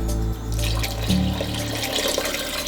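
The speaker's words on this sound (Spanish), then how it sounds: "Vamos a agregar todo el agua." Water poured from a container into a thickening pot of chicken gnocchi soup, a close, steady splashing and gurgling with a low hum of kitchen noise underneath and no talking.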